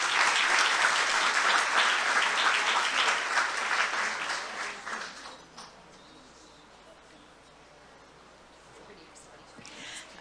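Audience applause for scholarship winners at an awards ceremony, dense steady clapping from a sizable crowd for about five seconds before fading to quiet room tone.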